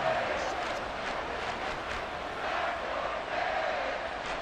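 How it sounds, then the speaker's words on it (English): A football stadium crowd at a Dallas Cowboys vs Miami Dolphins game roars in a continuous, loud wash of cheering and shouting that swells slightly in places. "the crowd getting into it as we come up on a big 3rd down"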